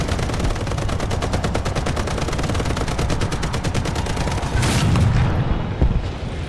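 Heavy tank destroyed in the War Thunder video game amid rapid, continuous gunfire and rattling bursts, then a loud booming explosion near the end, with no talking.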